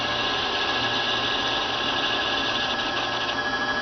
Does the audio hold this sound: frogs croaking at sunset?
no